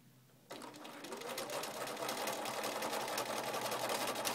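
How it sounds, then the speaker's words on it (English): A sewing machine stitches steadily down a diagonal line on quilt binding, starting abruptly and running continuously at close range with a fast, even whir. "I'm sewing straight down the diagonal."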